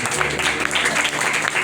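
Audience applause during a church sermon on repentance by Pastor Sajid Hanif: dense, steady clapping that fills the whole moment without a break.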